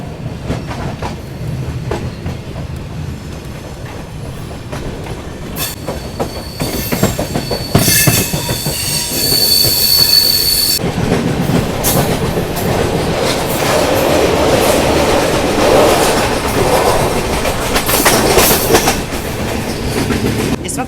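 The Indore Patna Express pulls out of a station after a short halt, heard from on board as a loud rolling rumble with rhythmic clickety-clack over rail joints and a sustained high wheel squeal.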